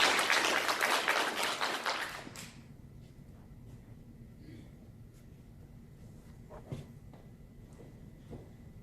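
An audience applauds at an Army ROTC commissioning ceremony, with a dense burst of clapping that fades out after a couple of seconds into a quiet hall with faint taps and shuffling.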